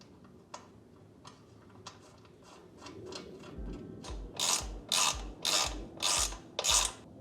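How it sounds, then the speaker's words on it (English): Paddock stand bobbins being tightened into the swingarm of a Triumph Tiger Sport 660, a ratchet clicking in slow single ticks at first, then loud, rapid bursts of ratcheting close by with no talk. "to install these, you just screw them in and tighten them down to 24 Newton meters"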